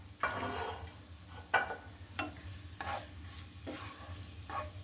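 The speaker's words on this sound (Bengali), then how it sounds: "দিয়ে দিচ্ছি 3টা শুকনো মরিচ। এটা আমি একটু ভেজে নিব।" Three dried chillies fry briefly in oil for a vegetarian dal, a low steady sizzle broken by several sharp stirring scrapes at regular intervals.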